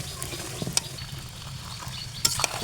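Ground spice paste sautéing in a pan for turkey curry over a clay stove, a soft continuous sizzle with a few sharp stirring scrapes and clinks.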